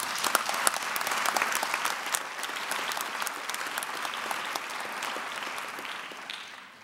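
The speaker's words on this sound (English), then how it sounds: "Please give them a round of applause." Applause from an audience at a university celebration of achievement for a group of Mu Dai drummers, a dense wash of many hands clapping steadily for several seconds before tapering off at the end.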